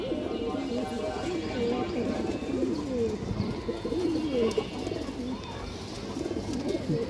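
Old-bloodline Bagha Khaki pigeons coo repeatedly in low, rolling phrases that overlap one another, close by and steady throughout, with someone talking over them.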